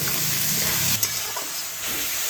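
Coriander-leaf mash stirred with a little sugar and two green chillies, giving a steady moist scraping and squelching texture that runs throughout, with a soft knock near the middle.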